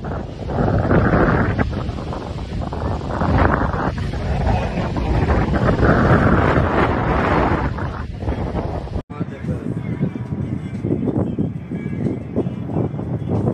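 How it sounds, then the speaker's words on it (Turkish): Strong wind during a forest fire in Gülnar, Mersin roars and buffets the microphone in a loud, continuous rush, with a brief dropout partway through before the gusting carries on. "Çok kötü bir rüzgar var."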